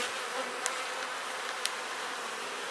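Honey bees hum in a dense, continuous buzz around an opened hive, steady and close throughout with a couple of brief clicks, no voices.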